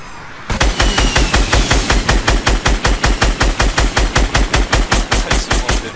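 Sustained automatic gunfire in a Fortnite match, loud and close, with rapid evenly spaced bursts firing almost without pause for several seconds.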